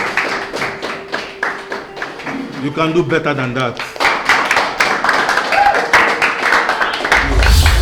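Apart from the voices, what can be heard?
school audience clapping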